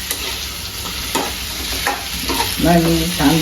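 Potatoes being stirred in a hot pan, a steady sizzle with soft scraping and clacks of the spoon, and a brief voiced murmur near the end over the frying.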